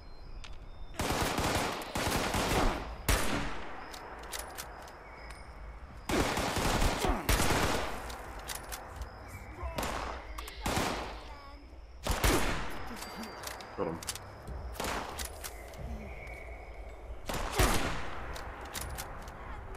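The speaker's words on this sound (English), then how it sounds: "Fully auto weapon." Fully automatic weapon fire in the video game Fallout 76 comes in repeated loud bursts of rapid shots, spread across the stretch with brief pauses between volleys and faint game sounds underneath.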